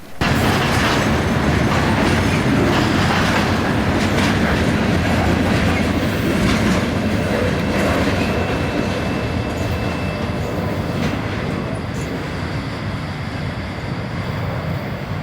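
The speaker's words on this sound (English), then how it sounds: "63V is a New York City to Mingo Junction, Ohio unit trash train." A freight unit trash train running from New York City to Mingo Junction, Ohio rolls past close by with a loud continuous rumble and rhythmic clickety-clack of wagon wheels, easing slightly toward the end.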